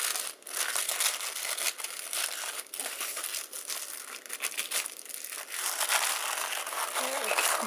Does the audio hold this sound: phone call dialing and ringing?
no